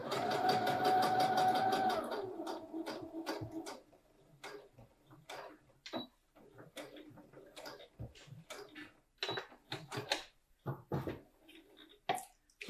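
A sewing machine runs steadily while stitching a side seam on a drawstring bag, then stops, followed by scattered clicks and small handling taps as the fabric is turned.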